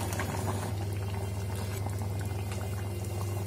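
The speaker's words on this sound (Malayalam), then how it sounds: "അപ്പൊ ഫിഷ് കറി ഇപ്പോ തിളച്ചിട്ടുണ്ട്" Trivandrum-style fish curry bubbles steadily in a pan over a medium flame, a close, continuous simmering patter with a low hum of the stove underneath and no talking.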